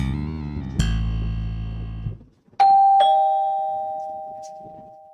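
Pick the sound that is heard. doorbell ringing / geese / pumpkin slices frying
doorbell ringing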